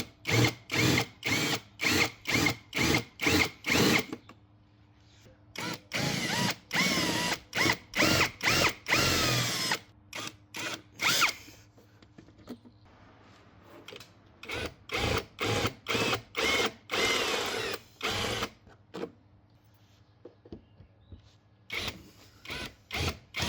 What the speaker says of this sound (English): Next I'm gonna drill these rivets out.